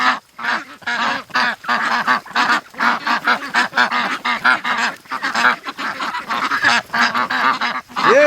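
Ducks at a pen quack in a loud, busy chorus of rapid overlapping calls, close by and continuous throughout.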